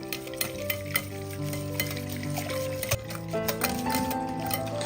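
Yogurt, one cup measured in a 250 ml cup, is mixed in a bowl for a batter-free snack, with steady scraping and stirring clatter and a few sharper knocks of the utensil against the bowl, close and fairly loud.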